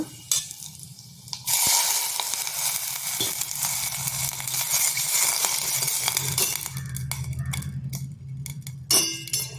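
A loud, steady hiss of sizzling fills the pan as water hits hot tempering for kokum rasam, continuing for several seconds with faint clinks near the end.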